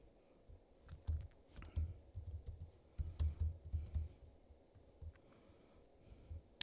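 Typing on a computer keyboard in clinic exercise-program software comes as quiet, uneven bursts of soft key clicks over a low room hum, with no talking.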